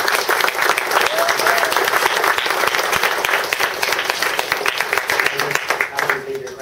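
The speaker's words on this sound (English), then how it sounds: "I want to give a great big round of applause to Amrith Kumar and Damion Hankejh." Audience applause after a talk on an open source database-as-a-service platform at a tech conference, dense steady clapping from a crowd filling the whole stretch, fading slightly near the end.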